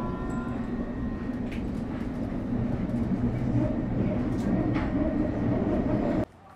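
A London local train pulls into a platform with a steady, close rumble that swells slightly and then cuts off abruptly, with faint voices in the background.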